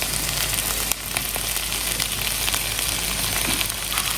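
Tomato and onions fry in a pan, making a loud, continuous sizzle that is close and even throughout, with a faint clink near the start and no voices.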